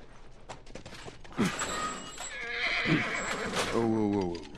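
In The Last of Us, a horse whinnies sharply several times with clopping hooves, loud and near, over an ambient game background with a little talk.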